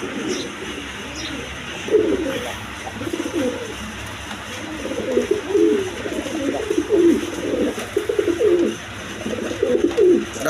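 Several pigeons coo in repeated low, throaty bursts from about two seconds onward, close and fairly loud, with a steady background hum and no voices over them.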